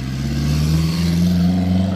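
A small all-wheel-drive race car engine accelerates steadily and close by, a loud continuous rising drone with strong low harmonics and no talking.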